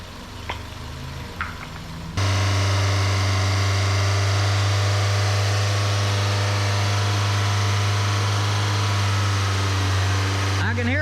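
A Tow-Rolla car engine runs after a nitrous spray treatment, starting abruptly and settling into a loud, steady, droning idle that holds for about nine seconds before cutting off, with a few faint knocks before it starts.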